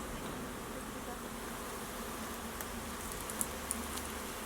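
Social bees buzz in flight in a steady, continuous drone with a few faint clicks near the end, sustained and even throughout with no voices.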